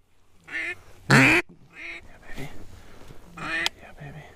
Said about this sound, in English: I'm hoping the honkers show up soon.